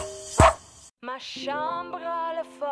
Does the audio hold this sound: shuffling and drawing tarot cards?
no